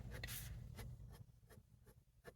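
A Sailor Pro Color 500 fountain pen with a fine steel nib writes on paper, giving soft, close scratchy strokes in a quick irregular rhythm, quiet and alone.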